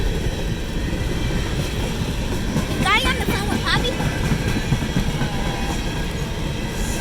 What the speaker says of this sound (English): So a 4-engine coal train and a 3-engine mix rate.